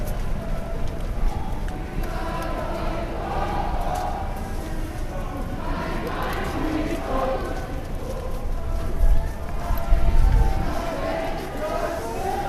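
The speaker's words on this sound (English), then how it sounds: "You can hear the chants of the crowd and the honks of the cars passing by." A protest crowd marching against ICE near Oppenstein Park in Kansas City chants continuously, voices blurred and mid-distance under steady street noise and passing traffic.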